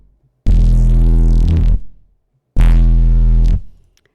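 Looped flute sample pitched down and used as a gritty sine-wave sub bass with added effects and OTT compression, two long deep sustained notes separated by a short silence, loud and alone.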